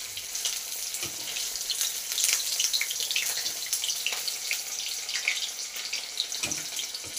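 Tap water runs steadily into a bowl holding fried paneer, a soft continuous splashing hiss at moderate level with small gurgling bursts, no voices.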